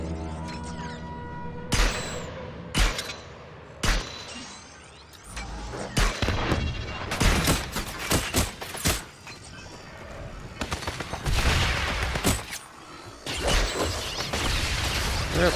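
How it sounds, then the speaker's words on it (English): Bursts of gunfire from the VR shooter Farpoint, with sharp single shots and rapid volleys, loud and close, spread across a busy battle with mechanical clanks and crashes in between. "I'll just shoot this thing then."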